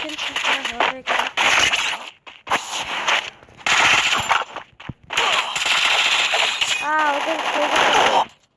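Rapid bursts of gunfire from a Counter-Strike ranked match crackle in quick, loud volleys with brief gaps, under excited talk from a player.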